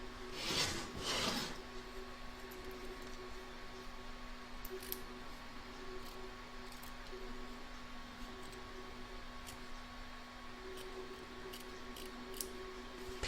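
Scissors trim fabric around stitching in an embroidery hoop, making faint, scattered snipping and rubbing sounds over a quiet steady hum, with a louder rustle at the start.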